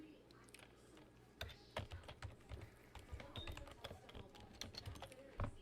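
Password typed on a computer keyboard, quick irregular clicking keystrokes close by, soft and fairly quiet, with bursts of rapid taps and short pauses.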